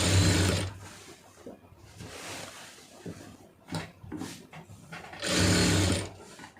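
A sewing machine stitching a fall onto a saree, whirring in short loud runs at the start and end with quieter pauses, fabric handling and light clicks between.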